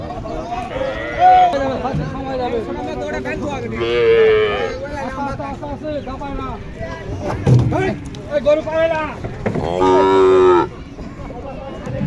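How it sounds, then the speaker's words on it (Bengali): Cattle being unloaded at a cattle fair and show moo several times, a long low moo standing out near the end, over steady talking and general bustle from a crowd. "দেখেন মেলার জন্য গরুগুলো নামানো হচ্ছে"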